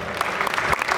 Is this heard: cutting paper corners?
no